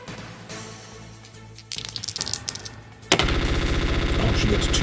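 Gunfire effect for Meryl firing at Mantis in a Metal Gear Solid VR board game app: a quieter stretch builds into a loud, sustained rapid volley of shots in the final seconds, with faint speech earlier.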